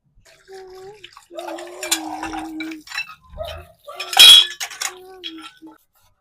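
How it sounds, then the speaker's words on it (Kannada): Dishes being washed in a home kitchen: scattered clinks of pots and cutlery and splashing water, with a louder clatter near the middle and a faint voice humming or speaking underneath. "ಪಾತ್ರೆ ತೊಳೆದು ಮುಗ್ದಿದೆ."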